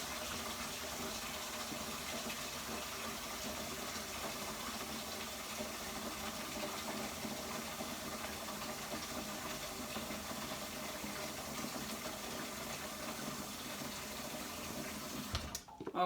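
Steady running water from a tap pours continuously into a basin, a constant broadband rush with no voices, ending abruptly.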